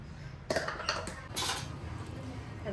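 A spoon adds ghee to a cooking pot with a few quiet metallic clinks and taps against the rim, close by and otherwise hushed.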